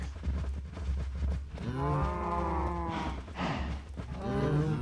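Cows mooing in a space ranching game, several long, deep bellowing moos following one another over a low background hum, clear and fairly close.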